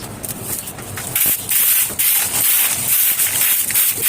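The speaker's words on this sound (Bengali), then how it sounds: "আর আমি এখন নিজে সিঁড়িটা ঝাড়ু দিয়ে নিব" A broom sweeps stairs at home with repeated bristly swishing strokes, close and fairly loud, in an uneven rhythm with no speech.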